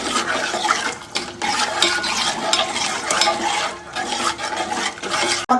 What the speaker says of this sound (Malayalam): നന്നായി ഒന്ന് ഇളക്കാം.